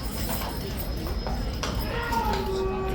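A horse shifts and turns inside a horse box, hooves clattering on the floor in several irregular knocks amid steady background noise, with voices present.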